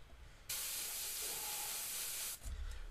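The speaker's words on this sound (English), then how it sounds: "I'm spraying on the stencil, letting the overspray get there" Airbrush spraying paint onto a stencil for a skull and shattered-glass design: a steady, close hiss of air and paint lasting about two seconds before it cuts off.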